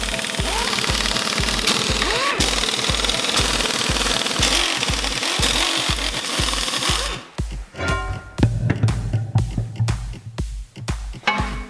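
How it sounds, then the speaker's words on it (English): A power tool breaks loose bolts on an electric off-road monster truck build, hammering in a steady, rapid pulse for about seven seconds, then a string of sharper, separate clicks and knocks close by. "Let's break all the bolts."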